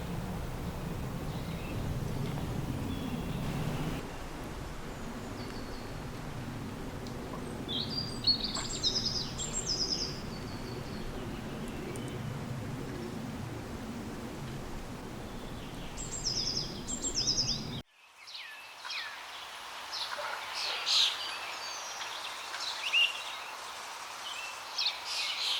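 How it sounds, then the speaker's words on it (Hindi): Birds chirp and call in short bursts on a quiet morning by the Ganga, over a low steady background wash. The sound cuts to a quieter scene partway through, where faint chirps continue. "पंछियों के चहचहाट और पानी के लहरों की आवाज़"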